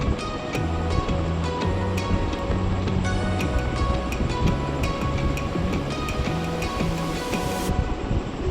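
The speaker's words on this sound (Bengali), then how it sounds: "কারি পাতা ফোড়ন দেব।" Curry leaves sizzle in hot mustard oil with mustard seeds and dried chillies for a masoor dal tempering, a loud, constant crackling hiss up close with sharp pops scattered throughout.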